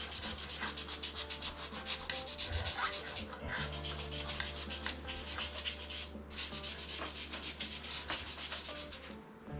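Steady, continuous sanding of Telecaster guitar frets with 2000 grit paper, a dense scratchy rubbing held close up with brief pauses in the strokes and no talking.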